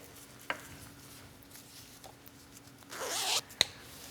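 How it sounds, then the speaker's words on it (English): A zipper on a sewn knit skirt with a hidden, contrasting zipper gives a brief rasping zip near the end, after a few faint handling taps and clicks in a quiet room. "That's a contrasting zipper, and you can't see it. Thus the term, hidden zipper."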